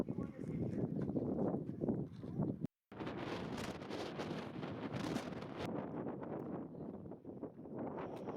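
Strong wind roars and buffets across a microphone on a very windy hilltop along an old trading route in Morocco, a steady heavy rush broken by one brief dropout.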